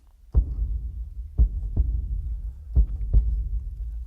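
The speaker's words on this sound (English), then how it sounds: "I thought I'd simulate a pulsing heartbeat. which I've recorded to add a bit more tension." Simulated pulsing heartbeat recorded for a tense dystopian soundtrack: five deep, thumping beats in an uneven double-pulse rhythm over a low, steady hum, close and moderately loud, with no voices.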